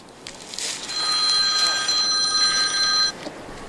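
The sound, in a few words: telephone ringing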